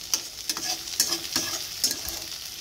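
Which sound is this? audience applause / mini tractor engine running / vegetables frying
vegetables frying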